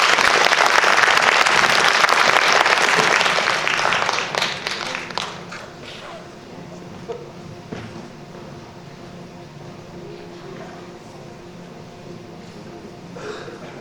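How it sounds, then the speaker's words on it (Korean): Applause from an audience after a student research presentation at an academic event fills the opening seconds loudly, then fades to a quieter room by the midpoint. "다시 한번 큰 박수 부탁드립니다"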